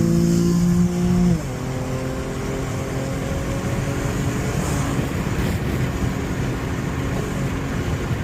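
Infiniti G37X sedan with a swapped VR30 twin-turbo V6, shifting into a higher gear and pulling steadily while accelerating in drive sport mode; the engine note drops after the shift, then climbs again as a loud, continuous in-cabin drone with no talking.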